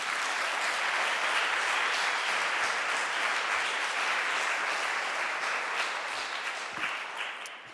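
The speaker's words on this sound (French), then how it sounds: "Merci de l'applaudir chaleureusement" Warm audience applause at the 31st Prix Droits et Libertés award ceremony, a full, sustained roar of clapping from a large crowd at a moderate level, easing slightly toward the close.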